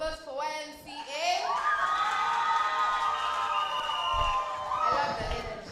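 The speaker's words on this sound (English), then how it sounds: "A round of applause for YMCA." An event audience at a national newsroom contest bursts into cheering, whoops and applause, with excited shouting voices rising and falling across the hall over several seconds.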